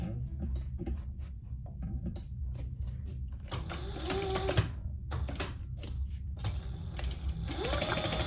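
A sewing machine stitches a seam on a hot pink waist pack, running in short bursts of rapid mechanical clatter broken by brief pauses, close and clear with no talking.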